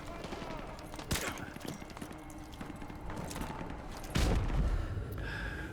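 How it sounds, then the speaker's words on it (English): Gunfire in Call of Duty: Modern Warfare 2 Remastered strikes the player as sharp bursts of shots crack through a busy, low-level game soundscape, with a couple of louder impacts standing out. "Alright, still getting shot."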